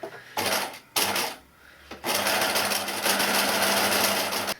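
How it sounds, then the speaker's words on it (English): A sewing machine stitching a fabric notebook cover over elastic, running in fast, loud mechanical bursts with two short pauses before a longer continuous run, close up. "I'm going to reverse back over the elastic and on again"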